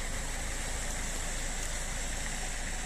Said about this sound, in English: engine sound nice and smooth